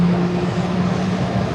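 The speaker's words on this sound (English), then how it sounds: "Sorry about the noise, there's a plane taking off right there" A steady, loud roar of a jet engine from an airplane taking off nearby, with a low droning hum, continuous and unbroken throughout.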